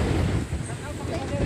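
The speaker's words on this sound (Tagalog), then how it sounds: "Very refreshing yung hangin." Strong, steady wind blowing across an open hilltop at Bulalacao Hills in Camarines Sur, a loud continuous rushing buffeting the microphone.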